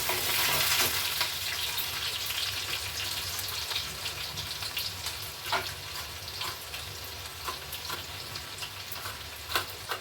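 Crushed garlic, curry leaves and green chili fry in hot oil, giving a loud, continuous close-up sizzle that starts strongest and settles, with occasional stirring scrapes and no voices.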